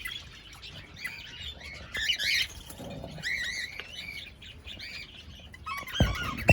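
Rosellas and cockatiels in a large aviary squawk and chirp in a dense, overlapping chorus, with sharp harsh calls throughout and a loud burst near the end.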